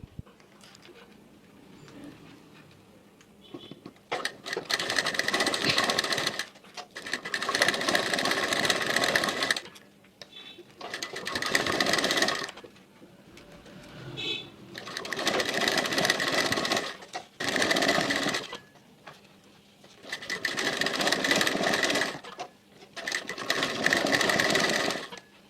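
A sewing machine stitches multi-color cord piping into folded fabric, running in steady whirring bursts of several seconds each, separated by brief pauses, close and fairly loud with no talking.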